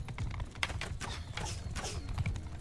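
Horse hooves clatter in Mount & Blade II: Bannerlord, a fast, uneven clip-clop of a ridden horse, fairly faint and steady throughout with a soft background bed.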